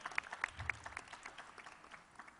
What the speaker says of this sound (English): Let's give the Radio City Music Hall a round of applause.